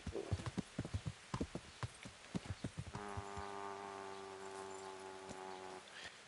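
Horse hooves clip-clop at a steady trot while riding in the medieval video game Kingdom Come, a run of close, crisp beats joined midway by a sustained tonal game sound.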